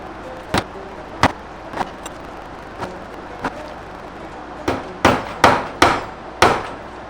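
A hammer drives nails in a series of sharp, loud, close blows, with some spaced strikes at first and then a quicker burst of heavier hits near the end.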